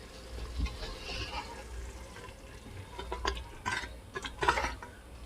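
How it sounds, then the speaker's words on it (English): Spoon stirring spaghetti sauce in a pot, soft scraping and wet sloshing in irregular strokes, close and fairly quiet, with a few sharper clinks near the end. "That's going in the pot, stirred up"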